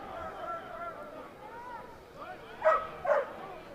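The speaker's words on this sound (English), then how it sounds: "The dog barking, adding its, emphasis to our national anthem" A dog barks twice, briefly, in the stands at a college football game between RPI and SUNY Brockport, heard at moderate distance over crowd murmur during the national anthem.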